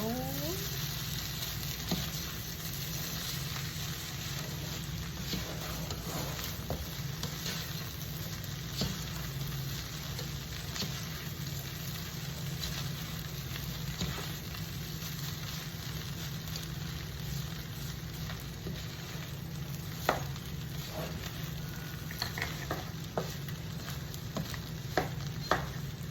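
Ground beef crackles and sizzles steadily in a pan while a spatula scrapes and stirs it now and then, the frying close and moderately loud with a few sharper taps near the end.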